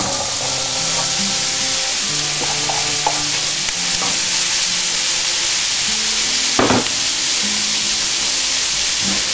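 Onions sizzle steadily in a hot pan for a homemade tartiflette, a close, continuous frying hiss with occasional stirring scrapes and one sharper clatter partway through.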